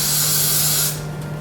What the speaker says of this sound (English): my Got To Be Free spray, and just go like that.